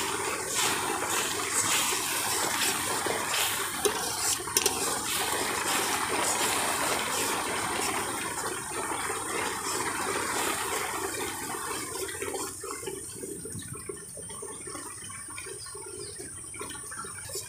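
Coconut milk pouring into a pan of cooked prawn masala for prawn malai curry, a steady liquid rush and splash that continues for several seconds, then thins and quiets toward the end.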